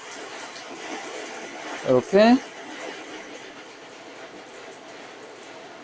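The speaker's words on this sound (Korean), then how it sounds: "물도 한번 샤워기로 한번 뿌려볼까요?" A shower head sprays water onto a coated car surface indoors, giving a steady hiss of spray throughout, with someone speaking briefly near the middle.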